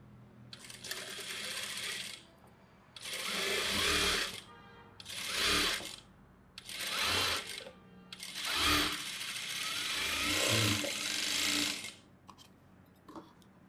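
A sewing machine runs in several short bursts of rapid stitching, separated by brief pauses, with one longer run near the end.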